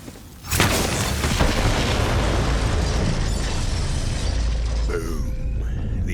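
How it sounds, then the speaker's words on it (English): Planted bombs detonate in Borderlands 3 with a sudden loud boom that rolls into a long, dense rumble and debris crash. The blast echoes through a forest and then slowly fades. "The explosion echoed through the forest, and those Devil Riders didn't even get a chance to hit the brakes."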